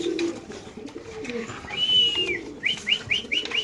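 Fancy pigeons at a pigeon farm coo softly up close, a low rolling coo early on, then a long rising whistle-like note followed by a run of five short repeated calls, with no talk over them.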